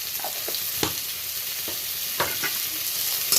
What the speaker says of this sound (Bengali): ভালো করে ভেজে নেব আলুটা